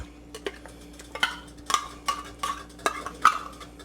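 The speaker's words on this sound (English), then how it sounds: "Next up, let's add our green chilies." Green chilies going into a pot of queso: a string of soft clinks and scrapes of a spoon against the pot, irregular and close, with no talking.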